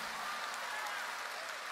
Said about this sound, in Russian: насладитесь, пожалуйста, этими аплодисментами